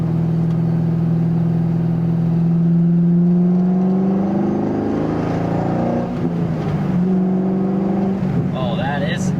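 A C5 Corvette engine pulling hard through the gears, a loud droning tone that climbs in pitch, drops at a shift and climbs again, heard from inside the car.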